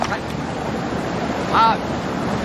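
Some of the 500,000 gallons of water circulating continuously through the Splash Mountain ride rush in a steady, broad wash like surf, with a brief high squeak partway through.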